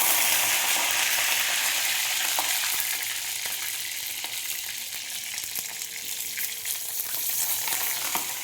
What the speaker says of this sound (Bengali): এখানে আমি ভাজতে থাকবো বেগুন।